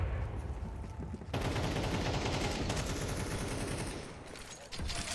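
Gunfire in a competitive shooter video game match, heard as rapid, dense bursts of shots crackling continuously and fairly loud, with brief gaps between volleys and a faint commentator's voice beneath.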